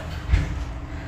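Rumble from inside a subway train, a steady low drone with one brief heavier thump, and no talking.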